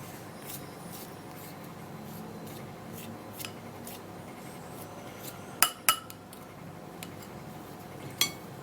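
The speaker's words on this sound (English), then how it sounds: "it's actually not going to be very easy to mix this because of the oil, but we're going to mix." Hair oil ingredients are mixed in a bowl, making quiet rubbing and scraping punctuated by a few sharp clinks of the utensil against the bowl.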